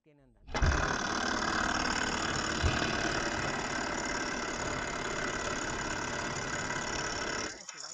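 A homemade Stirling engine runs steadily with a belt driving a small electricity generator, giving a continuous close mechanical whirr and rattle that holds level for several seconds before stopping.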